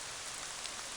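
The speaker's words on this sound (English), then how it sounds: "It started to rain in this room." Steady, soft rain hisses evenly inside a room in the video game Ib, a faint constant patter with no other sounds.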